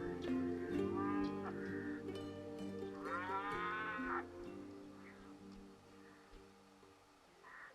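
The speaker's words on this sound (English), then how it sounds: "we found ourselves surrounded by fields and grazing cows." Cattle grazing in highland fields outside a town low repeatedly, a few drawn-out moos one after another, moderately distant against a quiet background.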